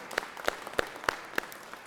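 Five sharp, evenly spaced claps ring out in the Georgia Senate chamber, crisp and fairly close, with quiet gaps between each strike.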